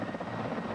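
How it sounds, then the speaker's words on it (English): Soviet-made helicopter gunships fly in Nicaragua, a steady loud rotor thrum with dense chopping pulses and engine roar, heard alone without talk. "These are Soviet-made helicopter gunships in Nicaragua."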